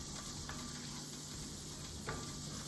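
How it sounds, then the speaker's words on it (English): Saffron risotto rice frying in melted butter in a pan, a quiet steady sizzle with faint stirring scrapes running throughout, no voices. "Frying the rice up."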